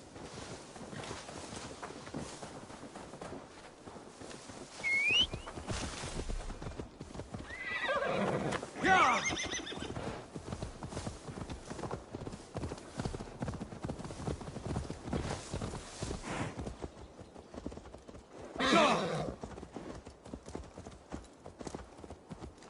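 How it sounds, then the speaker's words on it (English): In the Assassin's Creed Valhalla video game, a horse clip-clops steadily and whinnies loudly several times, over a constant rustling game background with no talking. "Now to deliver Magni his horse."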